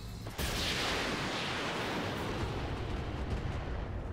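Heavy weapons fire in a video game, a dense, continuous roar of rapid explosive blasts that begins with a sharp onset and holds loud and unbroken to the end, with no talk over it.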